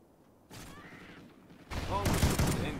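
Gunfire from the shooter game Call of Duty Ghosts comes as a quick burst of sharp reports, with louder, denser shots near the end, under game noise and some talking.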